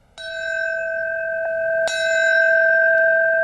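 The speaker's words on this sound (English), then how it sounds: "The ringing of the bells." Bells ring out at a solemn Ground Zero ceremony marking the end of the recovery effort, two clear struck tones with long sustained resonance, a softer tap between them, heard alone without talk.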